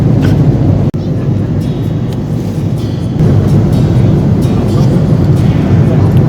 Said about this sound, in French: on est dans l'avion pour direction Le Caire et on vient de décoller